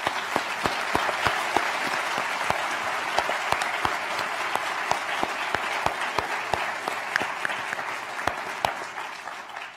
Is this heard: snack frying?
no